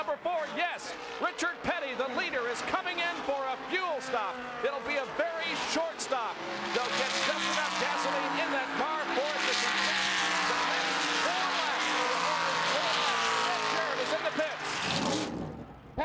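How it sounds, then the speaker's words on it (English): NASCAR stock cars roar past during the 1981 Carolina 500 at Rockingham as the leader heads into the pits for fuel. Engines whine and sweep by repeatedly and build to a sustained roar, with a commentator talking over them. "Richard Petty, the leader, is coming in for a fuel stop"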